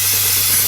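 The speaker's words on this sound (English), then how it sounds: "I'm going to spray the entire thing" An airbrush sprays brown paint onto an Airfix 1/48 Hurricane model kit, a steady close hiss with a faint low hum underneath, brief and uninterrupted.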